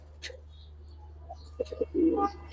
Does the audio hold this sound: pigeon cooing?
yes